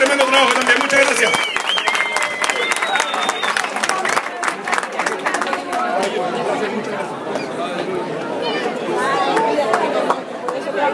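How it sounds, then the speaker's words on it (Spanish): Applause for the serving staff at a party: dense, steady clapping from a crowd, mixed with loud overlapping chatter and voices throughout. "un aplauso a todas las personas que nos sirvieron en la mesa"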